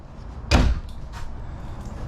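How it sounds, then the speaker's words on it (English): A drawer in a front-kitchen camper slides out on a full-extension glide, a single quick loud rolling thump followed by faint rattles and a soft low room hum. "notice how it comes out. It's a full extension drawer glide."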